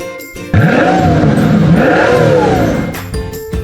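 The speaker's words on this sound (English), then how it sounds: "Let's make the car noise together." A car engine revs up and down in a continuous, loud roar, with rising and falling pitch sweeps, set in a children's transport song.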